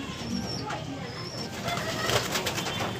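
Pigeons cooing softly inside a roomy loft, low murmuring coos mixed with faint wing flutters and background noise, moderately close but quiet.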